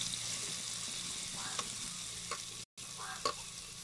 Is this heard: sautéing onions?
yes